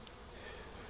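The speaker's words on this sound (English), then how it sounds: "I've got the bees hanging up here, just about head height" Dense buzzing of a honeybee swarm hanging at head height, being collected into a hive box with frames, crown board and an old floor; a steady close drone fills the whole second with no voices.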